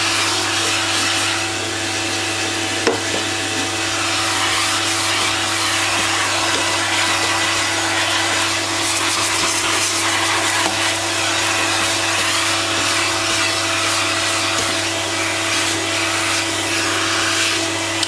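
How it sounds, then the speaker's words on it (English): A vacuum cleaner drones steadily nearby, sucking up ebony sanding dust while a guitar fretboard is shaped in a woodworking shop, a loud, constant whine with a single brief bump early on. "I take my vacuum cleaner,"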